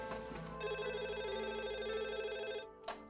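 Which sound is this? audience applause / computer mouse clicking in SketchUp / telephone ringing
telephone ringing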